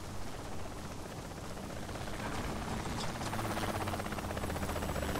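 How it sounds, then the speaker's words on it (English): A helicopter in the video game Saints Row The Third gives a steady, loud rotor drone with a buzzing chop, running continuously through the whole stretch with no talking over it. "Damn chopper!"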